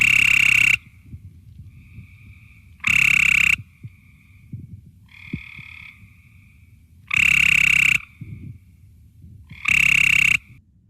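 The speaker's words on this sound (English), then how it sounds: "All right, that is our gray tree frog." A gray tree frog calls in an Ohio wetland: four loud, even trills about a second long each, spaced a few seconds apart, with faint chirps from other frogs between them.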